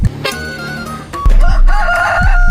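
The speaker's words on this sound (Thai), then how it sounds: "ไก่ขันแล้ว ไก่ขันแล้ว" A rooster crows loudly in a Roblox horror video game, its call rising and wavering across the clip over a thumping low background, with no talking heard.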